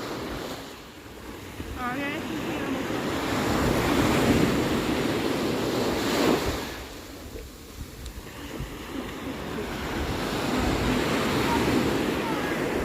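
Sea waves wash onto a wide beach in Bulgaria, surging up and receding in slow swells under steady wind buffeting the microphone, with people talking faintly now and then.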